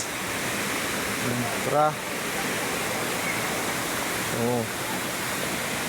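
Flowing river water or waterfall, a steady broadband rush throughout, with two brief spoken calls heard over it.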